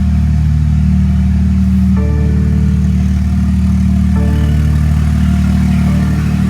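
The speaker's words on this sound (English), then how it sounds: "That's what you call a BMW M135 6-cylinder 3-liter." A crash-damaged BMW F20 M135i with a 3.0-litre six-cylinder engine idles close by after seven months unused, a steady, loud, low hum with a few faint overtone shifts and no talking.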